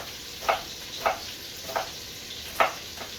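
Bacon and onions frying in a pot give a soft steady sizzle, broken by four brief louder crackles or stirring scrapes spaced through the clip, with no talking.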